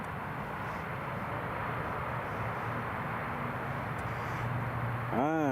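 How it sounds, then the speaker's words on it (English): Aer Lingus ATR 72-600 turboprop departing an airport: a faint, steady distant engine drone with a low hum, fairly constant throughout, under background noise. "here goes the Aer Lingus ATR 72600 heading back to the Emerald Isle, back across to Dublin"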